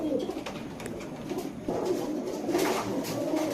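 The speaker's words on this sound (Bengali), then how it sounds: "এই জায়গায় দিলাম এক জোড়া দোবাস কবুতর" Dobash and Giribaz high-flyer pigeons coo in low, throaty bursts, close by, against a faint background hum with no talking.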